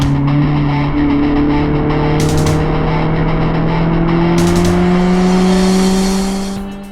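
Mazda Miata roadsters cruising south on the I-5 freeway, a loud steady engine drone with a constant pitch that climbs slightly, plus brief bursts of wind or road rush, fading out at the end.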